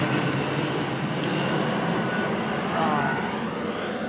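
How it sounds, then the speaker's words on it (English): An airplane passes overhead under a murky sky, a steady broad roar of jet engine noise that swells slightly midway and stays constant, heard alone without talk. "Plane going over, but the sky is so murky"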